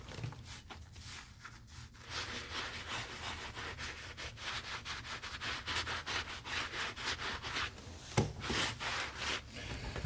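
A luxury leather bag with mould is scrubbed with a foamy cleaner, giving a continuous close rhythmic brushing and rubbing with a soft lather texture and one sharper scrape near the end.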